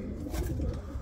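A pigeon kept as a performing game bird coos softly in one brief, low murmur against faint background rumble.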